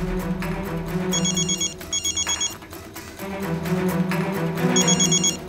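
A telephone bell rings in repeated short trilling bursts over a tense, droning music score, loud and near, with no talk.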